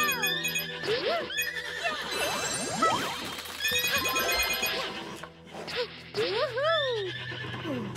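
Synthetic, game-style horse neighs and whinnies from Princess Peach Showtime repeat over a busy, layered soundtrack with ringing tones and clatter, loud and close throughout.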